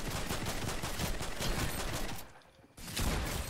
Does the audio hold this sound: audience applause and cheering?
no